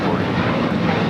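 Airliner taking off from a runway at LAX, a loud continuous engine roar heard at some distance under faint radio chatter.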